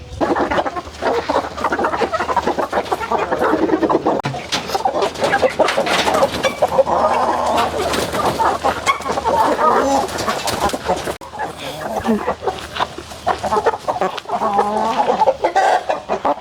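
A flock of rare-breed chickens clucks and calls continuously at close range, a dense busy chorus of poultry sounds with a person talking intermittently among them.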